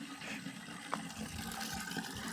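Water rushes steadily into a toilet cistern as it refills, a moderately quiet, continuous hiss and gurgle with a small splash partway through, and no voices.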